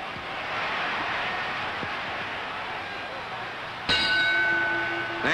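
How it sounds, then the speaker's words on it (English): A boxing ring bell clangs once near the end to close a round in the 1953 heavyweight title fight between Rocky Marciano and Roland La Starza, ringing out bright and sustained over crowd noise and a commentator's voice. "There's the bell, ending a close round."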